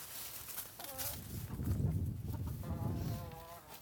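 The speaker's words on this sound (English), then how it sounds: "you chickens want to come out?" Chickens in a large walk-in coop give soft clucks and short pitched calls at close range over a low, rustling background murmur, with no talking.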